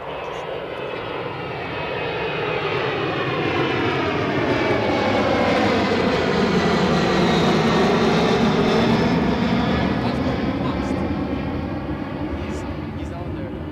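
An airliner takes off from Edinburgh Airport on a flight to Poznan, its engine roar building into a loud, sustained rumble that holds steady before slowly easing, with people talking faintly underneath.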